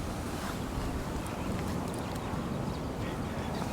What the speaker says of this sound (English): it's a really strong wind today